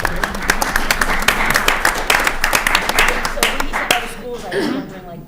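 Applause at a school committee meeting, a room full of people clapping steadily for about four seconds before it fades out under a voice that starts talking.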